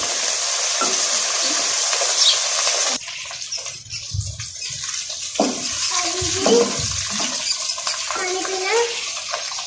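Chopped onion and green chillies sizzle in a hot pan while being stirred for dal lauki, a loud, steady frying hiss that drops back after a few seconds to softer sizzling with scraping and clinks of the spoon.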